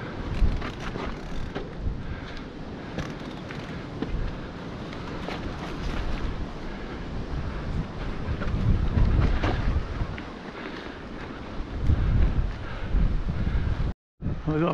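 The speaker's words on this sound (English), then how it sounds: "we have got the wind behind us as predicted" Wind noise buffets the microphone steadily during a bike ride up a long road climb out of Rosedale on Blakey Ridge, with a low rumble that swells and fades and a brief dropout near the end.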